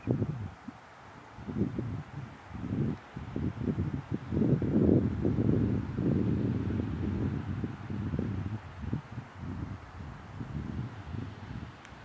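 Wind gusts high up in a national park, with buffeting rumbles and breathy rushes hitting the microphone in uneven surges, rising and easing over several seconds with no voices.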